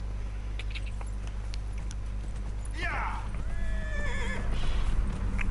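A horse mount in Dragon Age Inquisition whinnies with a rising, wavering neigh over a steady low game-ambience rumble, accompanied by soft hoof clopping, with someone speaking nearby.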